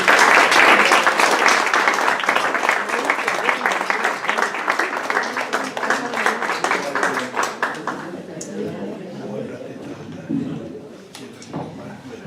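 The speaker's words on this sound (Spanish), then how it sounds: "Un fuerte aplauso para Eduardo." Audience at a poetry evening applauds for Eduardo, a dense, steady wash of clapping that holds strong for several seconds and then thins out toward the end.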